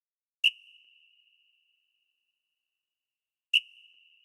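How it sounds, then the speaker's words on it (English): A 660 whistle sample in an FL Studio beat: two short, sharp high whistle hits about three seconds apart, each ringing out with a quick fading tail against silence. "And finally, a 660 whistle."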